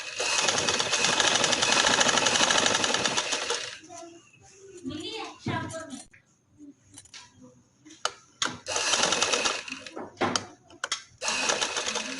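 A sewing machine stitches a kameez in bursts of fast mechanical whirring, with starts and stops between runs. Someone speaks in the quieter gaps.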